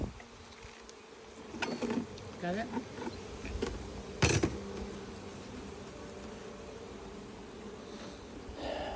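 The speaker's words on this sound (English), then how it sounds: "it does have a bunch of bees on it" Honey bees buzz around a hive frame that has been set down while supers are added, a steady droning swarm close by with a few louder passes and a brief sharp knock; a voice speaks briefly.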